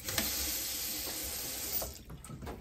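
A bathroom tap runs at full pressure in an apartment, a steady close hiss of flowing water that cuts off near the end, leaving a few faint drips and handling sounds.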